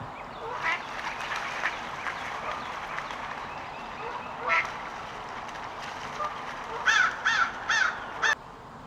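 Waterfowl call at dusk near a beaver habitat, scattered raspy honks and quacks from some distance, with a cluster of louder calls toward the end over faint background.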